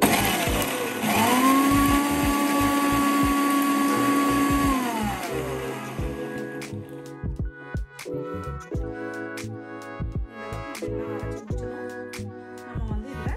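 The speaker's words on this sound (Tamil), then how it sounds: "இது எல்லாத்தையும் எடுத்து நம்ம மிக்சியில் வந்து நம்ம கிரைண்ட் பண்ணலாங்க" A kitchen mixer grinder whirs loudly and steadily for about five seconds, blending garlic, lemon juice and other mayonnaise ingredients, then winds down into softer clinks and knocks.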